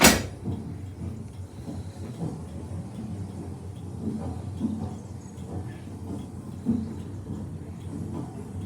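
A train rumbles past a signal box at moderate distance, a steady low mechanical roar with faint clanks and rattles of wagons, no voices.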